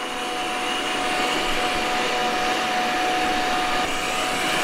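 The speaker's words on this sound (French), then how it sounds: "on va voir l'aspirateur qui va se diriger dans la zone et qui va faire la zone" An Ecovacs Deebot N8+ robot vacuum cleaner runs continuously up close, a steady, even whirring hum that holds without pause.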